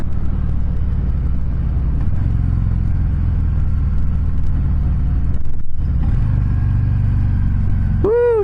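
A 2020 Harley-Davidson Softail Fat Boy 114 motorcycle rumbles steadily up close while riding onto a freeway, its low engine drone holding through the clip with a brief dip and shift before pulling on again.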